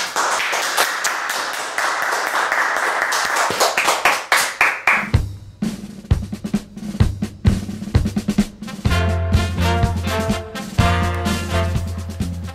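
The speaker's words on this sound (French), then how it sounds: "Tout le monde applaudit Roger." A game show studio audience applauds a winning contestant in a dense burst of clapping for about five seconds, then a bright musical jingle with a steady beat takes over.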